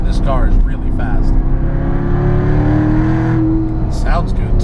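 Supercharged 600 HP Magnuson C7 Corvette Z51 with an eight-speed automatic accelerating hard, a loud sustained engine note climbing steadily for several seconds before dropping off, with brief bursts of voice at the start and end.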